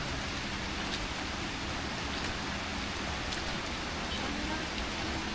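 Steady rain hisses evenly throughout, a dense wash of drops with no clear pauses.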